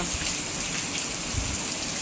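Heavy rain pouring outside, a dense steady hiss of drops hitting surfaces with no pauses, close and even in loudness throughout.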